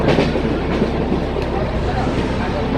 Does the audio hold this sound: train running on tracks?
yes